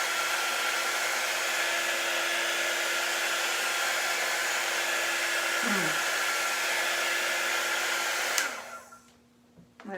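A hair dryer blows steadily at close range while drying craft transfers, a constant whirring hum that holds for several seconds, then is switched off and winds down to quiet.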